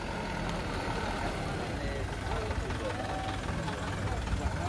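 A cattle truck arriving at a farm with its engine running, a steady loud rumble throughout with voices talking over it.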